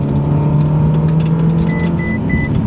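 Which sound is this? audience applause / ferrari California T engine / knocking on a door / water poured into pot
ferrari California T engine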